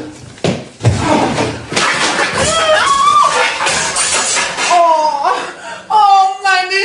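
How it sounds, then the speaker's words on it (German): Door forced open and slammed in a 1967 German crime radio play, with heavy bangs and thuds mixed under agitated voices, followed by shouting and a sung or wailed tone near the end. "Ich renne die Tür ein!"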